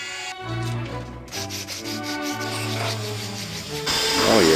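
A Dremel rotary tool grinds and polishes the cut corners of a small metal part, giving a steady, close, whining rub that holds for several seconds with no talking.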